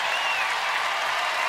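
A home crowd at a UConn women's basketball game against Syracuse breaks into sustained applause and cheering, a dense, even roar of clapping filling the arena from start to finish.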